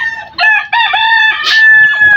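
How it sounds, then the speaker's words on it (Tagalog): A hen and chickens clucking and crowing up close, loud and harsh, in two drawn-out calls with a short break between them. "Bubugawin inahin."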